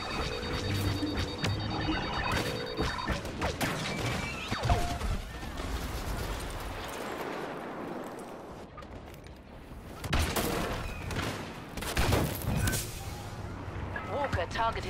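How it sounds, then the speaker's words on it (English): In Star Wars Battlefront, homing missiles streak toward the player amid a noisy battle with walkers and a Y-Wing. Dense blasts, crashes and rapid weapon fire layer over each other, with loud bursts near the start and end and a brief lull in the middle. "Homing missiles after you."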